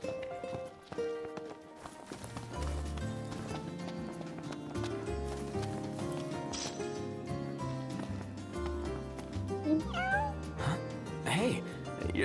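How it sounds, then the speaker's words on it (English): A cat in Final Fantasy XV gives a few short rising meows near the end, after a stretch of melodic game music with rhythmic thuds that carries on underneath. "Hey, you're the cat we saw in Galden."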